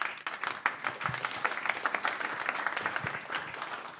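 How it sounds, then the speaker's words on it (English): Applause from a seated audience at a tech talk on smart contracts, steady dense clapping sustained for about four seconds at moderate distance, with no voices over it. "It's good to get a round of applause in before I say anything."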